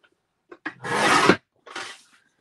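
Scissors or a trimmer slice through a piece of card paper in one long rasping cut after a few short ticks, followed by a shorter second stroke, close up and with no talking.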